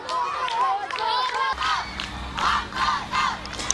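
Schoolchildren at games shout and cheer one another on in loud, repeated bursts of high voices, with excited crowd noise swelling and fading several times.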